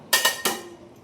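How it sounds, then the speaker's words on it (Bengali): A cover lifted off a bowl of batter, three quick close metallic clinks with a short ringing tail, and no voices. "ঢাকাটা এবার তুললাম।"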